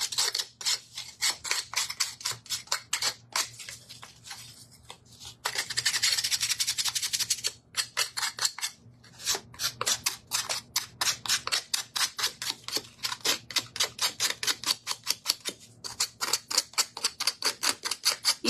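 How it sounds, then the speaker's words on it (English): Hand sanding of a wooden shelf piece, a steady run of quick, close, rhythmic rasping strokes that continues with brief pauses and has no talk over it. "Give this guy a quick sand."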